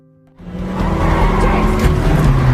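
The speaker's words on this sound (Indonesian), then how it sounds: "Bond langsung menancap gas mobilnya." A car from a James Bond film speeds off: after a quiet start the engine roars up abruptly with tyre squeal and stays loud and close as it accelerates away, with no talking.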